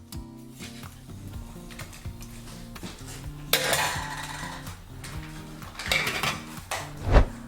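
Utensils clink and scrape against a pot while noodles cook, soft metallic taps and a few sharper clanks rising near the end, close by and fairly quiet, with background music.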